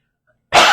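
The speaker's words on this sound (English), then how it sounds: "And I do need to cough after all of that." A single loud, harsh cough bursts out abruptly after a moment of silence, close to the mic.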